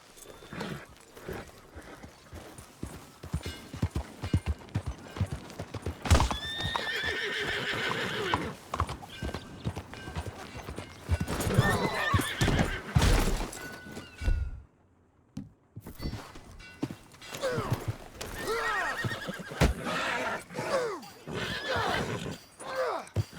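Horse hooves clip-clopping with repeated whinnies and neighs in Red Dead Redemption 2, a steady rhythmic gait mixed with loud snorting calls, with a few voices talking over the hoofbeats at times.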